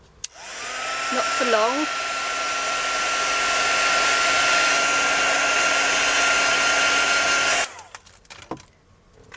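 A heat tool blowing a loud steady whirring roar as it reheats hot glue for embossing, starting with a rising whine and cutting off sharply near the end, with a brief remark spoken partway through.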